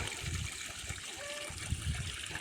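Water pours steadily into a mole burrow in a garden, making a close, continuous trickling and gurgling flow with no break.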